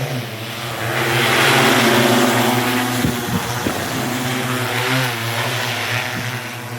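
A loud, steady agricultural spraying drone hums close by with a strong tonal propeller whine, holding for several seconds with slight pitch wobbles as it passes overhead spraying an onion field.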